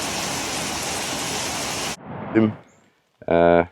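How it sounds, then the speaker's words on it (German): Steady, dense rain hisses loudly for a couple of seconds, then cuts off, followed by brief bursts of a voice speaking. "jetzt mal ein etwas stärkerer Regen."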